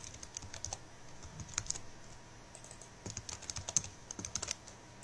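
Fingers tap out a security code on a computer keyboard, a quick run of close, crisp key clicks in uneven bursts with short pauses between groups of strokes.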